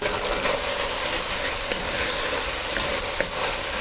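Vegetables and aromatics sizzle steadily in a pot for a soup, a dense, even frying hiss close up with a few faint clicks of stirring and no voices.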